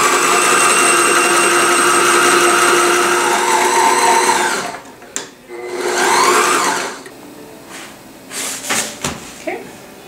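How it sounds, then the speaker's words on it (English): Sewing machine running color-matched top stitching along a self-drafted cover: a loud steady whirring run, a pause, a second shorter burst, then brief clicks and handling noises. "I'm going to put some color matched top stitching here."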